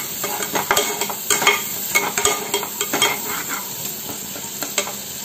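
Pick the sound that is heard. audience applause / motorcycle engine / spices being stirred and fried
spices being stirred and fried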